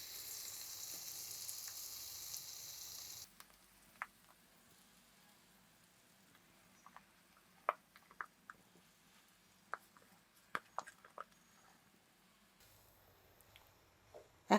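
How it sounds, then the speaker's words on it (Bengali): Boiled split chickpea paste fries in ghee: a hiss opens the stretch and cuts off, then scattered soft pops, squelches and stirring clicks follow, faint and close, before the hiss briefly returns near the end. "এখন এই সিদ্ধ বুটের ডালগুলোকে ভালোভাবে একটু প্রায় 7 থেকে 8 মিনিট এই ঘিতে ভেজে নিব।"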